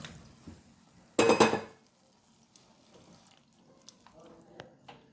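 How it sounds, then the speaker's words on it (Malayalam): Garcinia tamarind water is poured into a pan of prawn curry in one short, full splashing burst, followed by quiet kitchen clinks and faint drips. "ബാക്കിയുള്ള കുടംപുളി വെള്ളം ഇതിലേക്ക് ഒഴിക്കും"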